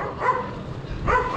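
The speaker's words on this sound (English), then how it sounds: "Cute little dachshund just chilling." A small dachshund on a neighborhood street in Barrio Barretto, Philippines gives two short, sharp barks close by, with a brief pause between them.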